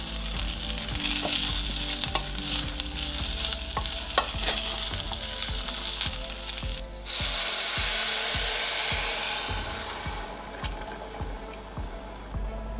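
Rice with turmeric and salt sizzles and bubbles steadily in a pan as orange juice goes in, with repeated stirring scrapes and clicks throughout; the hiss drops briefly, then resumes and softens toward the end.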